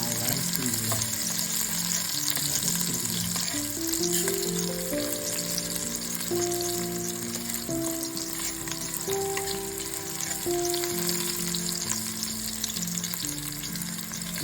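Onions sautéing in oil for a dried-fish curry give off a steady, close sizzling hiss throughout, with a background melody of sustained tones playing over it.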